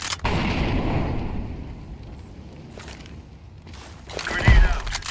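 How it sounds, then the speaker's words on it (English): An incendiary grenade from Counter-Strike 2 bursts and burns with a dense, roaring crackle, fading to quieter game ambience before a louder thump and crackle flare near the end. "Incendiary out."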